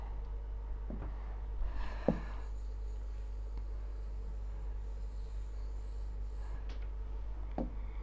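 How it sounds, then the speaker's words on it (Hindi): A few sparse, faint strokes of writing on a board during a quiet biology lecture, with nothing else but a low steady hum. "मैं इसको अच्छे से लिख देती हूँ"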